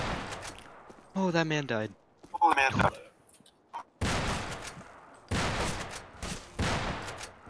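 Loud bursts of rapid gunfire ring out in a first-person video game, three separate volleys following a stretch where someone talks excitedly.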